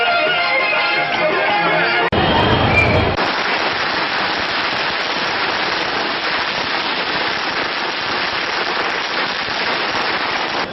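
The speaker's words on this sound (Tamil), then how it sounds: "பட்டாசு வெடித்தும் கொண்டாடி வருகின்றனர்" Strings of firecrackers crackle continuously at an outdoor birthday celebration in Tamil Nadu, with dense, rapid popping bursts that stay loud and steady throughout, nearby.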